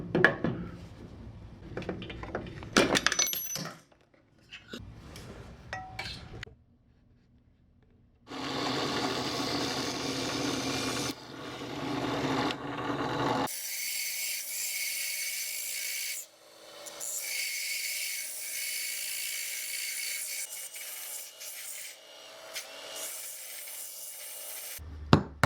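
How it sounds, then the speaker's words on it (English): A small piece of aluminum being cut by hand, giving bursts of rasping, grinding strokes, close and fairly loud, with short pauses and scattered clicks between the cutting passes. "Now what I'm going to do is cut a small piece of aluminum, and that'll fit inside the dowel like so."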